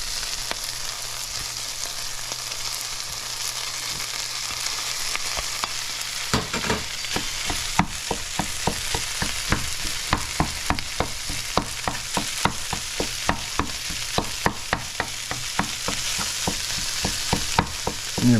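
Corned beef frying and being stirred in a pan, a steady sizzle with a hard start near six seconds, then a dense run of scraping, clattering stirs.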